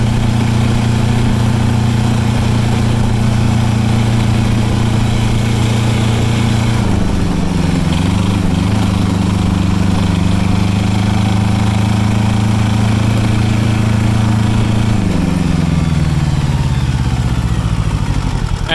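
An Arctic Cat 700 diesel utility vehicle engine drones steadily at close range, its pitch dipping and shifting twice as the load changes under engine braking, with no voices.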